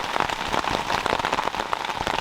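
Rain falls hard outdoors, a dense, steady patter of drops hitting surfaces nearby, continuous and fairly loud with no voices.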